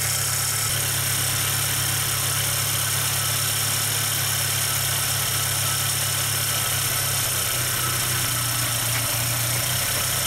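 A Volkswagen Rabbit engine with CIS fuel injection idles steadily for several seconds, a constant mid-pitched rumble with a low hum and no voices.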